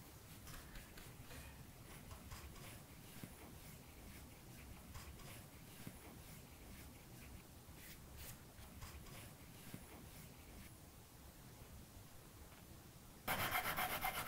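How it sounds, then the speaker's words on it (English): A rag wipes excess hemp oil off milk-painted furniture, making a faint, steady rubbing that continues throughout and grows louder in the final second. "And then we're gonna wipe back that excess."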